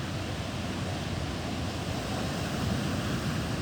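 Sea surf washes steadily against a beach on a warm day, a continuous broadband rush of waves with wind noise on the microphone and no distinct breaks.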